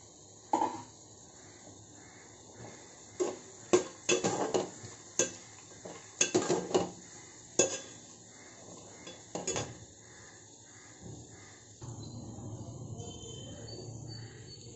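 A spoon stirring coconut cashew curry with salt and chili in a metal pan, a series of sharp scraping clinks in uneven bursts, followed by a softer sizzling hiss, with faint insect chirps in the background.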